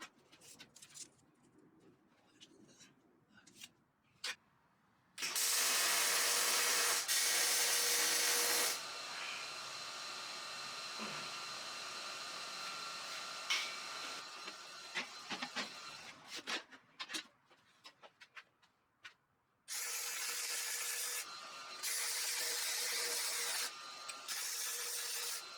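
A magnetic drill cuts a hole through 3/8 inch steel plate with too little lubrication, smoking as it goes. Two long, loud grinding bursts stand out against quieter stretches of scattered clicks and handling noise.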